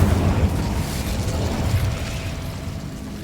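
The Incendio fire spell in the video game Hogwarts Legacy, a loud rumbling blast that roars steadily and slowly fades over a few seconds, heard alone.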